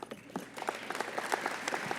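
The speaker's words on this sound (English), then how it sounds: "Give this future mayor a huge round of applause." Audience applause at a State of the City 2017 event as a student is invited on stage, a crowd clapping steadily in a hall with scattered louder claps and a few faint cheers.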